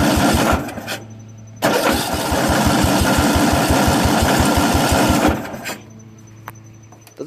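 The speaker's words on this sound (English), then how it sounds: "Doesn't seem like it's getting any kind of gas because it hadn't turned over at all." A Craftsman 13.5 HP riding lawn mower engine cranks without catching, giving a loud, rapid, rhythmic chugging of the starter for about four seconds between brief pauses.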